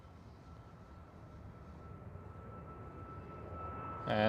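A Ryanair airliner passes at Schiphol Airport, its engine roar steady and fairly distant, slowly swelling as it approaches, with a louder burst of noise right at the end.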